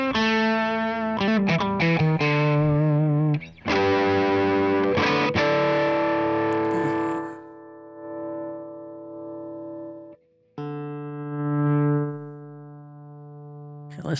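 Electric guitar through a tc electronic Ampworx Combo Deluxe 65 preamp with a little reverb: strummed distorted chords and picked notes, then sustained ringing notes fading with reverb tails, loud and upfront with no talking.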